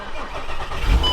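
A barn-find VW Golf R32 engine catches and settles into a steady, rumbling idle, loud and close throughout.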